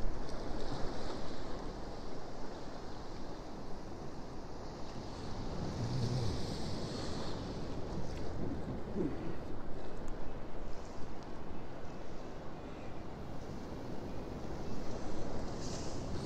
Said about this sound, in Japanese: 日本海荒れてます。